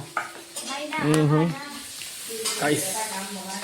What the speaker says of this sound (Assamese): এয়া পোলাও কাৰণে গাজৰ বিনখিনি ভাজোঁ, আলুখিনি মাংসত দিয়াৰ কাৰণে ফ্ৰাই কৰোঁ।